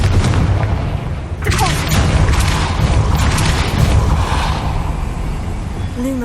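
The Confringo spell explodes in Hogwarts Legacy, a sudden heavy boom that bursts in loud and near, then rumbles and fades over the game's background sound.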